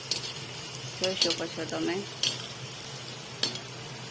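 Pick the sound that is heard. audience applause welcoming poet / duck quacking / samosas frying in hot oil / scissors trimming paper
samosas frying in hot oil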